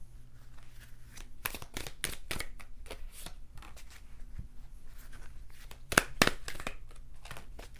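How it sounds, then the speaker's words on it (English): Oracle cards are shuffled by hand up close, producing bursts of papery riffling and slapping with brief pauses between, fairly soft in a quiet room. "Let's get some oracle cards for y'all."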